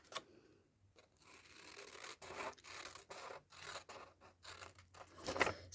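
Scissors cutting a pocket piece off fabric, heard as quiet, close rubbing snips and rasping slides in an irregular rhythm, faint and alone with no voices.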